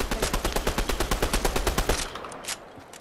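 Rapid automatic gunfire from the video game Fortnite, a steady stream of loud, evenly spaced shots for about two seconds, then stopping, followed by a couple of fainter scattered noises.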